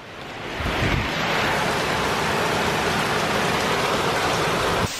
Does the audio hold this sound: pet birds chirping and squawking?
no